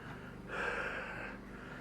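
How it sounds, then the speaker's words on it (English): Heavy, close breathing from someone working on an ADX 125 motorcycle while fitting aftermarket light units: a single swelling breath that rises and fades over about a second and a half against steady background noise. "you hear me breathing"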